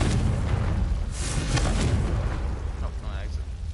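A Confringo fire spell in Hogwarts Legacy bursts with a sustained, roaring explosive rumble that fills the whole span, a few sharper flares rising within it.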